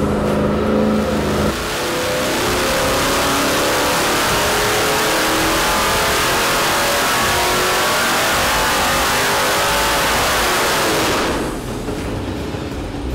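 A 415ci engine making about 600 horsepower roars under load on an engine dyno, with a cam, stock intake, 95 mm throttle body and LS7 injectors. The dense, loud pull holds steady for about ten seconds before easing off.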